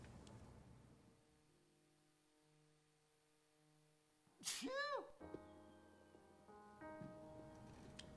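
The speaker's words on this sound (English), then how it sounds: "I'm gonna sneeze" A single sharp sneeze bursts out close to the microphone midway through, loud against a quiet room with a low electrical hum and a few faint tonal sounds around it.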